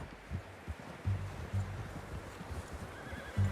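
In the video game Red Dead Redemption 2, a horse whinnies and snorts while hooves clop in uneven steps, fairly quiet with a soft outdoor background.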